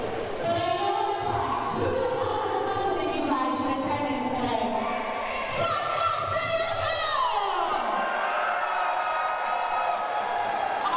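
A hot, excited crowd at a Constant Wrestling pilot event roars and cheers continuously, with loud whoops and yells filling the arena throughout.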